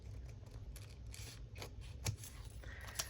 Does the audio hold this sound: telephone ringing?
no